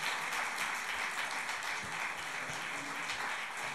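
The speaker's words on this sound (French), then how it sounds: "Vous pouvez applaudir." Dense, steady applause from a crowd at a French political rally in Ajaccio supporting Jean-Luc Mélenchon, a continuous wash of clapping with no voices over it.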